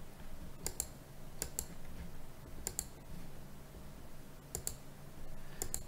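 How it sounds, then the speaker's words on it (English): Computer mouse clicks heard in short, faint pairs, about five sets spaced across a quiet room with a low steady hum beneath and no voices. "Click here to run that code."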